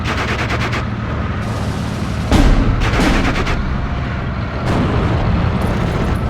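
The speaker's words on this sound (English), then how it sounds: "They got an MG set up actually going after my guy" Machine-gun fire in a Steel Division 2 battle: repeated rapid bursts of gunfire cutting through a dense, rumbling wartime soundscape, with heavier booms and distant shots between them.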